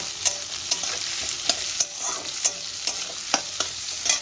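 Long, thin-sliced onions sizzle steadily in a pan as they fry toward light brown, with sharp scraping stir strokes breaking through the hiss about every half second to second, close and moderately loud.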